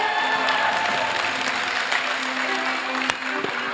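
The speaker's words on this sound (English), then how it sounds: "let's give a warm round of applause for the College of Engineering" Audience applause at a university film festival awards night welcoming the College of Engineering, steady and dense throughout, with a sharp clap or knock near the end and faint voices underneath.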